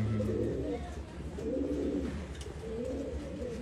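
Pigeons at a sale in Bangalore coo in low, rolling murmurs that run steadily and fairly loudly close by, filling the whole stretch.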